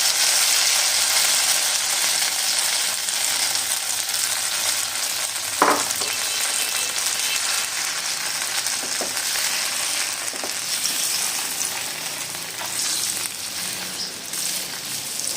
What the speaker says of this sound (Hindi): और इसको अच्छे से जो है हम लोग भून लेंगे